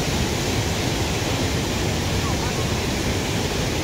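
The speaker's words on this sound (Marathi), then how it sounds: "हा चौथा धबधबा आहे." Steady broadband roar of the Savatkada waterfall, a constant rush of falling water without pause, loud and close, with the noise of a crowd folded into it.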